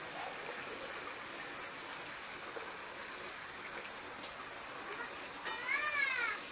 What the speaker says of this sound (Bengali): এবারে সেই তেলের মধ্যে পেঁয়াজ কুচো দিয়ে দেবো